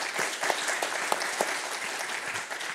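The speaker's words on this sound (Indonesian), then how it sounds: "Terima kasih, aplaus untuk Mas Marsal." Applause from a press conference audience ahead of the Indonesia U17 World Cup 2023 final, a steady wash of many hands clapping at moderate level with no talk over it.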